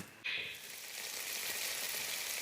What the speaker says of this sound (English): When it starts to sizzle up, it'll tell me when the oil's ready.